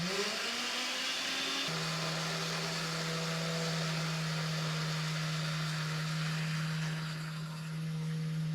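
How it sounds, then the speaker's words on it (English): Kitchen blender grinding bar soap for homemade washing powder, a loud steady motor whir that shifts pitch early on then holds a constant drone with a slight dip near the end, no voices. "we're going to blend it all very well. So that the soap grinds completely."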